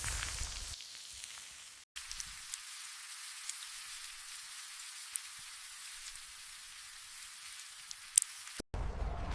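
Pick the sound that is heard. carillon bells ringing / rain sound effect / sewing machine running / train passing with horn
rain sound effect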